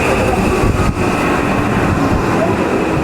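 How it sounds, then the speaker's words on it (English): An Odakyu Romancecar and an express train pass through a small station, a loud steady rumble and roar of rolling stock holding constant throughout with a brief dip partway. "there's a romance car coming from the other side and this freaking express train"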